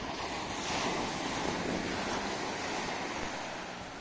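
Waves surge steadily onto a Sunshine Coast beach in Queensland at high tide, a continuous broadband wash of surf with wind rushing across the microphone, no voices present.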